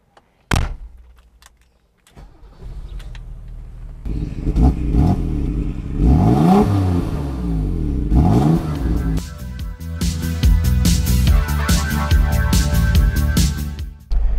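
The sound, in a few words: 1986 BMW E24 M6 car driving and accelerating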